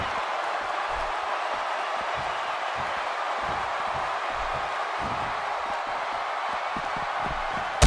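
Wrestling arena crowd in the WWE 2K16 video game, a constant broad roar of cheering spectators with scattered thuds underneath and a sharp slam at the very end.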